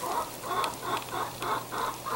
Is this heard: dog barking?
no